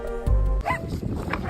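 Dogs confronting a polar bear, one sharp close bark followed by quieter yips and whimpering noises, with a little background voice.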